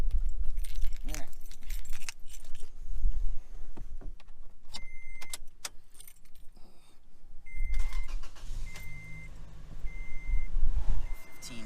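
Keys jangle near a Toyota Tacoma pickup before the starter cranks and the engine catches around the middle, settling into a steady, fairly loud idle rumble for the rest.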